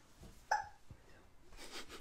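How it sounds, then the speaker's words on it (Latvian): A single sharp hiccup pops out close by in a quiet room, brief and clear against faint background noise. "Vēl žagojās."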